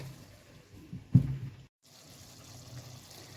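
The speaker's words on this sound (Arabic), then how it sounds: "ابتدي اضيف لها ميه من الكاتل" Water pours briefly from a kettle into a pot of simmering meat and onions for kebab halla, a short close splash rising over a low cooking hiss, then fading.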